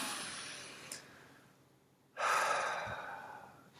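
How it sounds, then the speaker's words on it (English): A person draws a long, audible breath and then lets out a second, stronger deep breath, both close and fairly soft against a quiet room. "Take a big, deep breath at that climax."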